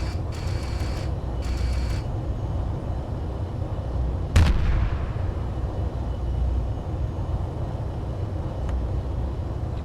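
A big gun fires in a space video game, one sharp booming shot over a dense, steady rumble of ambient game noise, with faint electronic beeps before it.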